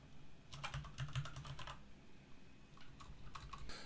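Typing on a computer keyboard while filling in an Excel spreadsheet, two short bursts of light quick keystrokes separated by a pause, faint over low room hum.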